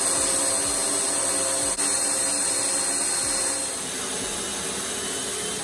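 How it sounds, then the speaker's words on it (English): A power drill whines continuously at high speed, drilling holes while fitting a rear gas tank on a Willys Jeep, a loud steady motor drone close by with a slight dip in pitch near the end. "I'm gonna go ahead and drill the holes in this one"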